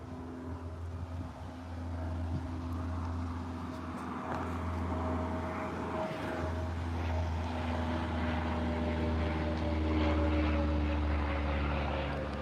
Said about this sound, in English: you might as well just record this Cessna